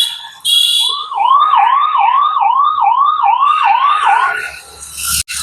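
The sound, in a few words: ambulance yelp siren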